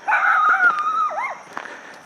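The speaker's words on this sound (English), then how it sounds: "And there's our vicious guard dog." A small Chiweenie guard dog at a fenced rural homestead gives a loud, sustained high-pitched bark that slides into a wavering whine, followed by a couple of short yips, close to the microphone.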